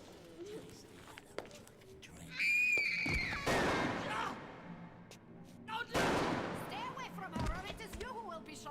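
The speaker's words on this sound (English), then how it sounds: "Why is the sound quality of the gunshot slightly better in the cutscene here than in your own hands?" Gunfire in a BioShock Remastered video game cutscene: two loud booming blasts a few seconds apart, mixed with in-game shouting, voices and footsteps.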